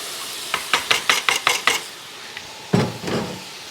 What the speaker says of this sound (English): Our beans are drained, in they go.